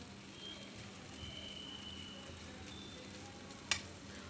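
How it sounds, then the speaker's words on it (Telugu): Chili powder and coriander powder fry in a pan with spices for a meal maker curry, giving a faint, steady sizzle with one sharp clink near the end. "వేయించుకోవాలి."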